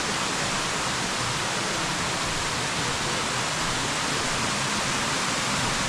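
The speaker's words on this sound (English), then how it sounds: "The waterfall." A steady, dense roar of rushing water fills the air, constant and loud without a break, like a waterfall heard up close.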